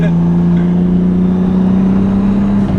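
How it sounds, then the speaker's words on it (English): A 600 wheel-horsepower car engine runs at a steady, loud, high pitch, holding its revs with a constant droning hum throughout. "rev it out in third, maybe not second"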